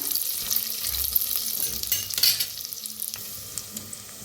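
Peanuts roasting in a kadhai with stirring, a steady mid-level sizzle broken by scraping of the spatula and a few louder clatters near the middle, no voices.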